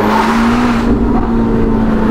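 A Novitec-tuned Ferrari SF90 Spider with sport exhaust runs loud and close, a steady deep engine drone with a sustained tone that rises slightly partway through, with no voices over it.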